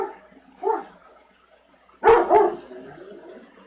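A dog barks twice, first a single short bark and then a louder double bark a moment later, fairly close, with quiet background otherwise.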